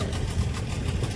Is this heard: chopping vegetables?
no